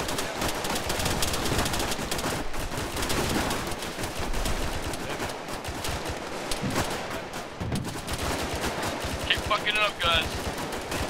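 Dense automatic gunfire and rattling bursts fill an Arma 3 firefight with almost no gaps, nearby and loud, while voices talk under the shooting.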